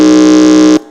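A quiz-show contestant buzzer at a junior high school semi-final sounds once during a buzzer check, a loud, steady harmonic buzz held for most of a second before cutting off abruptly.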